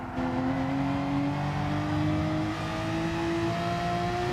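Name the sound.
race car engine revving in a GT sim racing game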